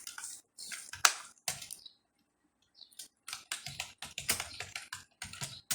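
Bursts of rapid keystrokes on a computer keyboard while entering a search, with a short pause in the middle, close and crisp with no talking.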